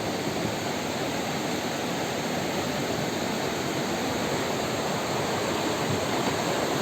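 The Rangit river near Bijanbari in the Darjeeling hills rushes past in a steady, loud, unbroken roar of flowing water, with no voices over it.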